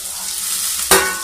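Masala fries in a pan while being stirred, a close, continuous sizzle with a sharper scrape of the spoon near the end.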